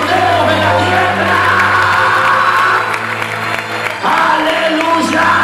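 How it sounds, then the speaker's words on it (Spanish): A church congregation claps, cheers and whoops together during a Spanish-language sermon, a loud, dense crowd sound over a steady low hum, with voices shouting through it and a brief dip before the noise surges again. "Aplauda lo que Dios ha hecho, para que disfrutemos de la tierra."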